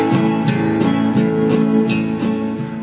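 Steady guitar strumming in a continuous down-up eight-stroke pattern, with the 1st, 4th and 7th strokes hit harder to form a repeating accented rhythm.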